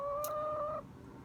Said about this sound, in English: Here's our lap chickens.